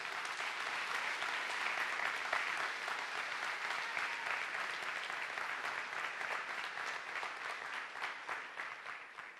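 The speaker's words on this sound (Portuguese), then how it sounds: "a família Deus Forte quer dar a você uma forte salva de palmas" A church congregation in Uberaba claps together in sustained applause, a broad even roar of many hands heard from a slight distance, steady for several seconds with a gentle fade toward the end.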